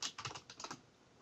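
Quick, light clicks of a computer keyboard as an IP address is typed, a short run of keystrokes at close range, fairly faint, then silence.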